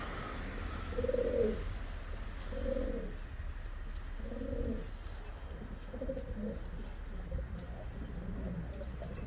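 Turkish show pigeons cooing on a rooftop, a series of soft low rhythmic coos repeating every second or two over faint outdoor background noise.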